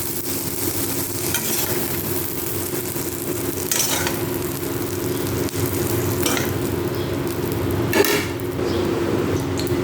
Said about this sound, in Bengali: চিংড়ি মাছগুলোকে ভেজে তুলে রেখে বাকি চিংড়ি মাছগুলো আমি ভেজে নেব।